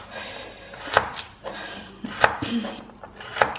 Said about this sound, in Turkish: Şimdi havuçları Böyle ay şeklinde doğrayacağım.